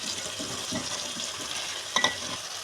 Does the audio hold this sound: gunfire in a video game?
no